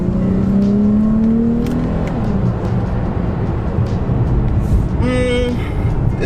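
A 2016 Dodge Challenger SXT pulls hard in second gear, its engine note rising steadily and then dropping as it shifts, with a loud droning rumble inside the cabin.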